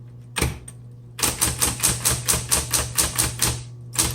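A 1970s Smith Corona Electra 120 electric typewriter is typed on up close, giving one sharp strike and then a steady run of about a dozen evenly spaced clacks over a low motor hum.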